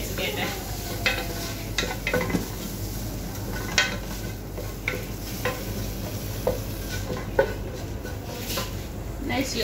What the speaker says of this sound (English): So I blend my pepper first, and it will give me very strong aroma. So 1/8, and then you stir together.